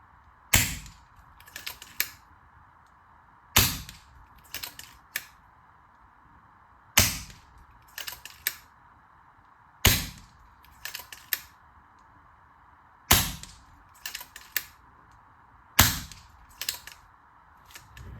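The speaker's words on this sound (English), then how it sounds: "These are my first shots ever on this target." Rifle shots fired at a homemade target through a Helix 2 scope, a series of sharp, loud cracks spaced a few seconds apart, each followed by quick smaller clicks, over steady background hum with no talking.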